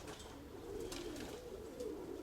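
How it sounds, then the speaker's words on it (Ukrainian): Soft, low cooing of pigeons, faint and somewhat distant, with a gentle warbling rhythm over quiet background noise. "Голуб птиця вільна."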